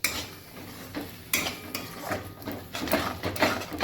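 A spoon stirs yogurt curry in a metal pot, giving light clinks and scraping knocks in an uneven rhythm, close but fairly soft.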